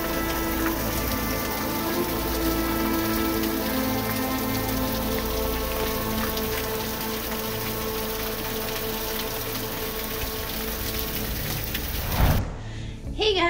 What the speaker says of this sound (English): we got some rain falling on my teff